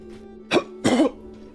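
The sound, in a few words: coughing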